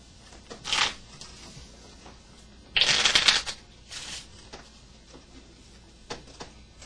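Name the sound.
playing cards being shuffled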